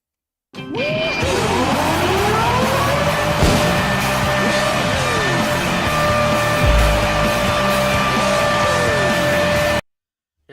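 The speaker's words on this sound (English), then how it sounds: "let's hit a Jets siren right now" New York Jets siren sound effect, a loud electronic wail rising and falling in repeated sweeps over a steady droning tone, lasting about nine seconds before cutting off abruptly.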